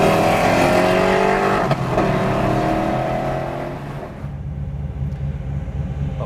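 A Ford racing car engine revving hard and climbing in pitch toward about six thousand rpm, loud and close, then easing off and dropping away to a low idle rumble.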